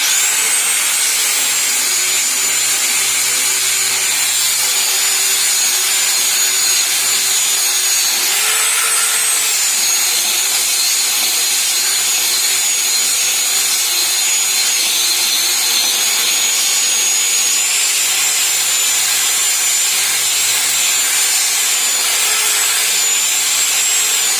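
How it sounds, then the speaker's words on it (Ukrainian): Steady abrasive rubbing of a 40-grit sanding disc on a power tool working over the wood of a garage ladder, a continuous even whine and grind held for the whole stretch with one brief dip midway, close and loud. "по поверху проходить процес шліфовки"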